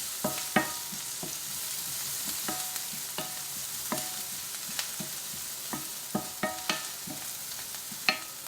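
Food browns in oil in a hot pan, crackling with a steady sizzle while utensils scrape and tap against the pan now and then, close and fairly loud, no talking.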